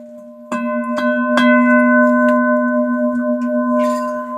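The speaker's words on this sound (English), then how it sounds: "There's the funky mind changing bell." A bell rings out with several sharp strikes early on, each leaving a long, steady ringing tone that sustains and layers over the rest of the passage, fairly loud and close with no talking.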